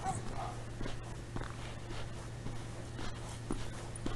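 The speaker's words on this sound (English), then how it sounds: "You hear a dog in the distance." A dog barking far off, faint intermittent barks over a steady low outdoor hum, with no voices.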